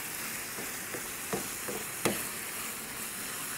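Keema saag frying in oil in a home kitchen, a soft steady sizzle with a few sharper stirring scrapes and clinks rising briefly above it.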